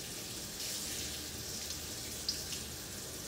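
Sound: tap water running over shrimp in a colander

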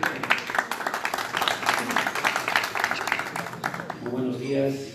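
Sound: audience applause at award ceremony

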